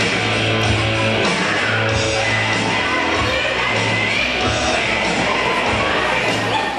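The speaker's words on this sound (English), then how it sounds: "Jake Valentine getting a great applause from the crowd." Wrestling crowd cheering and applauding Jake Valentine's entrance, a continuous rumbling wash of voices and clapping with entrance music humming underneath.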